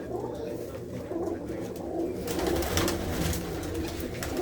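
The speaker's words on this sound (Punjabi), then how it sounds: "ਇੱਧਰ ਉੱਪਰ ਵੀ ਦੇਖੋ ਲੈਨਾਂ ਦੇ ਵਿੱਚ ਬੈਠੇ ਹੋਏ ਨੇ ਸਾਰੇ ਦੇ ਸਾਰੇ ਪਰਿੰਦੇ" Domestic hobby pigeons perched in rows coo in soft, low, continuous murmurs, close by, over faint background noise.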